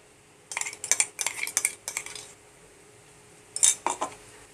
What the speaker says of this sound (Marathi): त्यामध्ये मी हे वाटलेलं वाटण घालून घेते